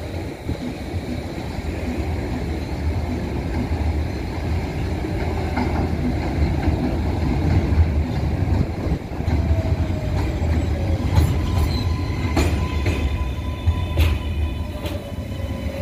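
An R188 7 train on the New York City Subway passes 90th St Elmhurst with a loud, sustained roar of wheels and cars, joined near the end by sharp metallic squeals and clanks.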